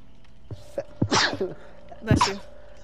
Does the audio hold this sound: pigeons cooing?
no